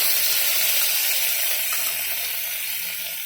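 Onions sautéing in a pan for coconut milk rice, a steady close sizzle with faint scraping clicks running throughout, easing slightly toward the end.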